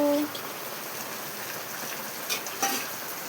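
Steady monsoon rain in an Odisha village during the Raja festival hisses evenly throughout, a dense soft patter with a couple of slightly louder drips near the end.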